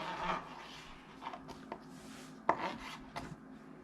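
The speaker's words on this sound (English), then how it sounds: "Then we're gonna try to cut a few slices." A knife cutting thick slices from a slab of homemade smoked pork belly bacon on a board, faint scraping strokes with a few sharper taps, quiet and close.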